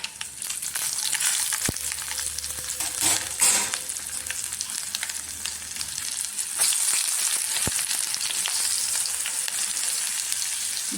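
Onion, garlic and curry leaves fry in oil after mustard and fenugreek seeds have spluttered, a steady close sizzle with scattered sharp pops and occasional stirring clatter.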